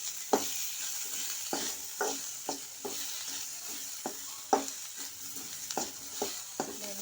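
Tomatoes frying in a pan with a sprinkle of rock salt, for a mackerel fish curry: a steady soft sizzle with repeated sharp scrapes of a spoon stirring against the pan, irregularly spaced, close and with no talking.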